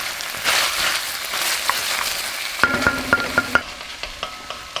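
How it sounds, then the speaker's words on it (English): Garlic and onion sizzle in a pot for a Sunday sauce. A steady close crackling hiss runs throughout, and in the second half sharp scraping knocks of a stirring utensil fall in an uneven rhythm, with no talk. "So we'll let that just kind of simmer a little bit. Release some of that garlic and onion flavor"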